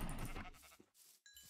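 A Minecraft sheep bleats as it is struck with a wooden axe in the video game, a short wavering bleat followed by a couple of brief fainter bleats, clear and close.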